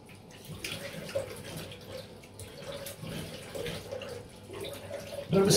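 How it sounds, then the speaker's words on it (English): Hot water running steadily into a hotel bathroom sink during a wet shave rinse, a continuous moderate splash and trickle with a louder surge near the end, no talking. "Hot water doesn't want to drain away."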